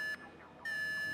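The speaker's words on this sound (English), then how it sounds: "The alarm's been tripped." An alarm tripped during a heist in Grand Theft Auto V sounds as a steady, loud electronic buzzing tone with many harmonics, cutting out briefly midway and then resuming.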